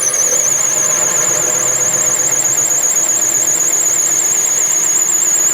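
A hole saw cuts into a block of leadwood for a mallet head, giving off a loud, steady, wavering high-pitched squeal over a constant grinding whine that runs unbroken from start to finish.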